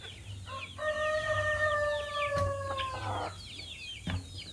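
Backyard chickens, a rooster crowing one long drawn-out call near the microphone while hens cluck around it, with a few sharp knocks in between.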